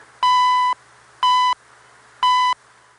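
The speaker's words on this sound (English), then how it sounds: "right after identifying and giving the time in English and French, it went right back to beeping" The CHU Canada shortwave time signal sounds three evenly spaced, steady electronic beeps about a second apart, each clear and bright over a faint radio hiss.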